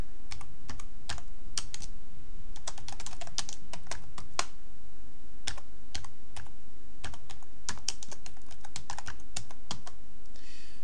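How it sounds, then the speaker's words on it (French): Steady typing on a computer keyboard while entering an address into a letter in OpenOffice/LibreOffice, with quick irregular clicks and keystroke bursts, close and clear, no voices. "Et je continue donc à taper mon adresse."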